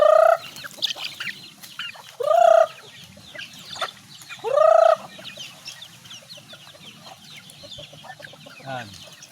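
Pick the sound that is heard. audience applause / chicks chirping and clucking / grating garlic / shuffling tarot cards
chicks chirping and clucking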